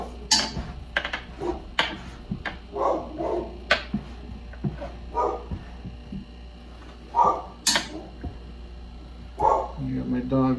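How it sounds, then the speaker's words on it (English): A dog barks in short, irregular bursts, some sharp and some muffled, spread through a room during a water filter change, over a steady low hum with handling noises. "You got my dog barking at nothing."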